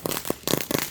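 Fireworks go off in a short burst of loud crackling pops, three bright bursts close together within a second, with no talking over them.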